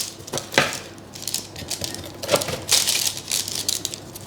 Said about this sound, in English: So I'm just going to transfer them to the rack to dry them out a bit.